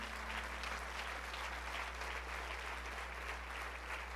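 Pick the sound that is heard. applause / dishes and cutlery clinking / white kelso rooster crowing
applause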